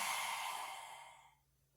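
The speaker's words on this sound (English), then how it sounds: "when we exhale, we need to open our mouth wide and stick our tongue out and make noise with our throats" A long, loud breathy exhale through a wide open mouth with the tongue out and a throaty rasp, done as a yoga breathing exercise, fading away over about a second and a half.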